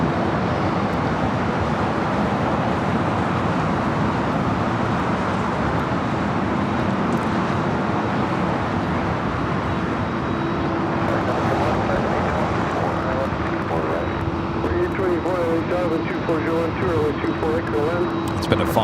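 A Delta Boeing 767-400ER, Flight 939 bound for JFK, takes off at Los Angeles airport on a hazy morning, its steady, loud jet roar running continuously with an engine tone rising in pitch near the end.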